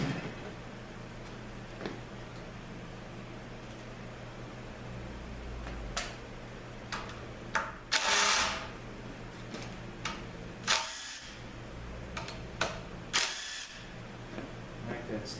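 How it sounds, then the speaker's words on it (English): An inverted Torx Plus socket wrench works bolts out of a 6L90 automatic transmission in a workshop, with scattered metallic clicks and ratcheting clunks over a steady low hum. "So we're going to take the 6 bolts out."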